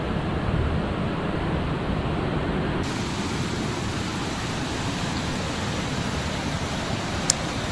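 A river rushes steadily along a narrowing path close to Bonanza Falls, a dense, unbroken roar of water that stays loud and even throughout, with no voices over it.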